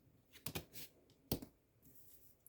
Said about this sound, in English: Let's shuffle them over.